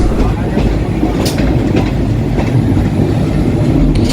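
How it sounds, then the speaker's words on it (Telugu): Tirumala Express running on the line, a steady loud rumble of wheels and carriage noise with faint rhythmic clatter, continuous throughout with no clear voices. "అండ్ ట్రైన్ అయితే తిరుమల ఎక్స్ప్రెస్ అండి."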